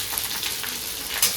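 Chopped onions frying in a pan of hot oil for duck curry, a steady close sizzle with faint crackles and a brief stir near the end.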